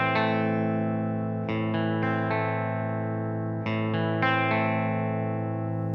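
Electric guitar playing a string-skipping riff through an effects unit, clean-ish plucked notes ringing out with chorus and echo, loud and close with repeated note attacks.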